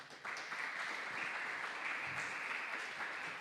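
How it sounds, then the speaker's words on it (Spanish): A church congregation applauds steadily during a Spanish-language sermon, a dense sustained clapping that swells in after a brief moment and holds at even loudness throughout. "Denle un aplauso otra vez al Señor."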